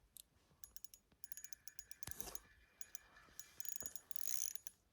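Ratcheting clicks from a fishing reel drag while ice fishing for panfish in a late-ice snowstorm, coming in quick irregular bursts of close, faint mechanical ticking and whirring across the stretch, with no talking.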